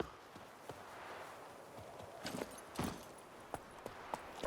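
Roach, a horse in The Witcher 3, moves along with faint hoof clip-clops scattered irregularly over a quiet ambient game background, the beats getting sharper and more distinct in the second half.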